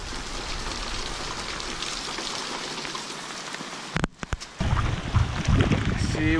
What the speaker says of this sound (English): You can hear the water going into the gutter.